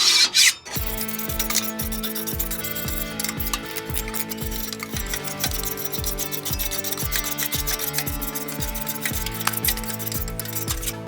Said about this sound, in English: And we're gonna try to knock off as much physical matter as possible here.